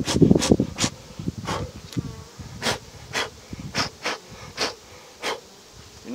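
Honey bees buzz around hive frames during honey extraction, a steady close hum broken by repeated loud passes as individual bees fly right by, with no talking.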